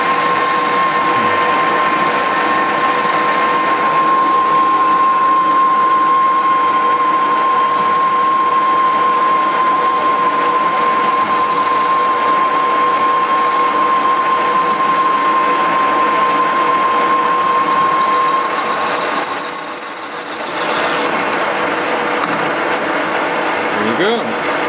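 A machine tool reams out a hole to roughly 1 1/4 inch during a 1970s Starduster aircraft repair, giving a loud, continuous mechanical whine and grinding drone with a steady tone that stops near the end.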